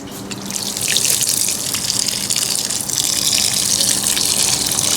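Steady gush of water pouring and splashing onto the soil of potatoes in a planter bucket, loud and close, continuous for several seconds with no voices.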